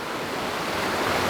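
Rushing water from a Dartmoor waterfall, a steady, full broadband roar that holds constant throughout with no other sounds above it.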